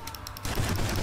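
Rapid gunfire from a weapon in the Roblox game Lucky Block Battlegrounds, a loud dense burst of shots that starts abruptly partway through and keeps going to the end.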